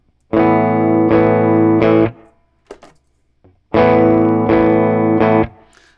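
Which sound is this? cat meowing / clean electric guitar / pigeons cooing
clean electric guitar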